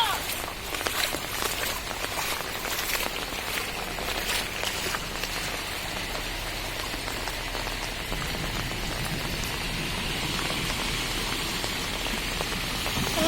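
Steady rain patters down across the whole stretch, a constant hiss with scattered drop taps, falling on dirty floodwater in a village; faint footstep-like movement sounds mix in underneath.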